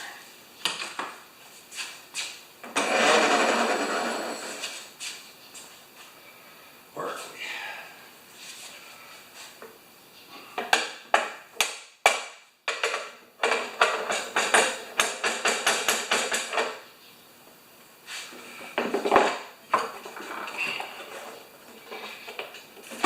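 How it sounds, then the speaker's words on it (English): Sharp metallic taps from a ball peen hammer striking metal on an abandoned Briggs-powered MTD mower, a quick irregular series of blows in the second half, with a person speaking briefly amid workshop clatter. "I'm going to have to tap that one with the ball peen hammer"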